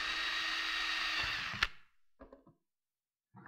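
Power drill boring a hole through a clamped Kydex holster for a handgun, whirring steadily and fairly close for about one and a half seconds, then stopping abruptly, followed by a few soft clunks of handling.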